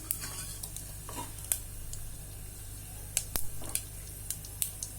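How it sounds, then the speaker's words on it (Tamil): Hot oil sizzling steadily with scattered sharp crackles and pops as spices burst, close by, no talking, while cooking drumstick biryani. "இந்த வெடிக்கிற சத்தம் கேட்குது பாருங்க"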